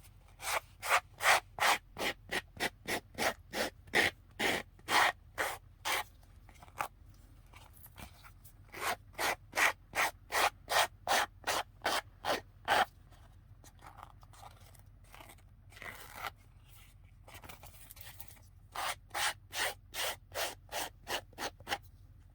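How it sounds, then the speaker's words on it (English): A nail file rasps across the edge of a playing card to trim off excess, in repeated rapid back-and-forth strokes, close and steady, with short pauses between bursts. "I'm gonna use my nail file and just take off the excess."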